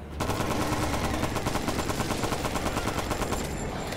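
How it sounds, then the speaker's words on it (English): Rapid machine gun fire in a video game comes as a loud, dense, sustained burst of evenly spaced shots that lasts almost the whole time, with no voices. "Oh, machine gun."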